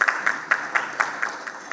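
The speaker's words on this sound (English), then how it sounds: "Please welcome him with a round of applause" An audience at an analytics conference event giving a round of applause, heard as a thin, sparse clapping with distinct regularly spaced claps, fairly close, with no talking over it.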